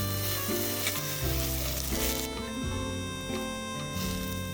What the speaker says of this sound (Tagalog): Pagkatapos, prituhin lang natin yung minarinate na talong.